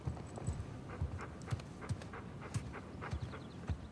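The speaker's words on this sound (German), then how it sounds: "Und da ist ja unser Hund." Dog in the Uncharted 4 video game panting close by, quick rhythmic breaths repeating steadily over a faint background.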